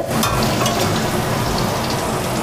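Boiled chickpeas and grated coconut frying together in a pan for a Bengali banana-stem ghonto, a loud, dense, continuous sizzle with crackling pops close up.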